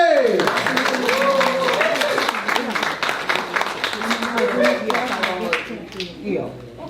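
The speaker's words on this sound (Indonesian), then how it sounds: "Mari kita sambut tepuk tangan Bapak Weli Ray" A crowd at a Kerukunan Keluarga Kawanua USA community gathering claps to welcome an officer, with scattered, moderately loud clapping that runs under a voice speaking throughout.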